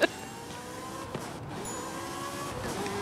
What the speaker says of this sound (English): These Ferraris sound really mean.